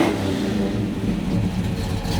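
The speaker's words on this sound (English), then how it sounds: "the dual exhaust sound" Built 400 V8 in a 1967 Pontiac GTO restomod with cold air intake and dual exhaust rumbles steadily, a deep continuous engine drone close by with no talking.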